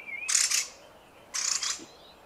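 A mistle thrush gives two short, harsh bursts of calling about a second apart, fairly close and clear against a quiet background.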